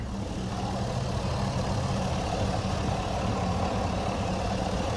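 A 5.3 V8 in a 2003 Chevy Tahoe idles steadily with the hood up, a continuous low rumble with an even, unbroken drone throughout and no voices.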